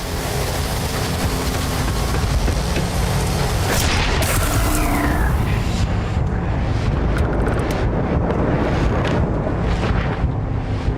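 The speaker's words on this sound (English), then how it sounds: "Scorpion just threw a grenade at me." Grenade thrown by a pirate enemy in Starfield, with a loud sustained rumbling boom and roaring blast noise across the clip, a sharper burst around four seconds in, then crackling debris and lingering rumble.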